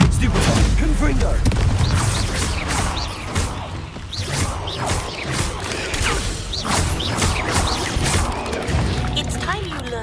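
The Confringo blasting spell bursts in the Hogwarts Legacy video game, with repeated booming blasts, crashes and whooshes through a busy battle while a voice talks over the action.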